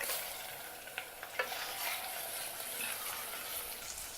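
Mutton pieces hit a hot pan of golden-browned onions and chilies, giving a steady bright sizzle with a few sharp crackles and spatters, close and unbroken, with no talking.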